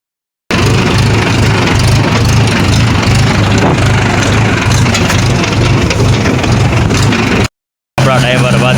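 A tractor hauling loaded wheat sheaves home from the field rumbles loudly and continuously, a heavy low engine drone with road noise, briefly cut off near the end.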